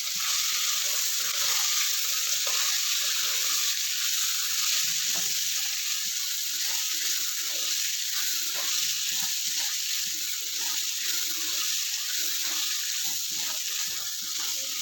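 Onion, tomato and vegetable mixture sizzles steadily while being stirred in a pan, a continuous, close hiss with faint scraping underneath and no voices.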